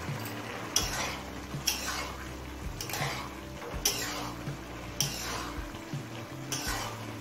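Raisins stirred into a pot of navaratna pulao, a spoon scraping and knocking against the metal pot in a steady rhythm of about six strokes over a low sizzle, close up.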